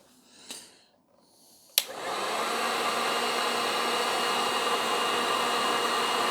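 A heat gun melts solder over twisted wires, switching on with a sharp click and then blowing a steady, loud broadband rush that holds unbroken to the end.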